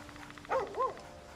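Two short barks from a dog in the fantasy role-playing game Baldur's Gate 3, each a quick rising-and-falling yelp, clear but moderately quiet over a steady low game hum.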